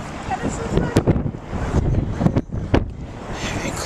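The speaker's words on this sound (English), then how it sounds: "Very cold and windy." Gusty wind rumbles and buffets the microphone in uneven bursts, with a few sharp knocks and distant outdoor noise.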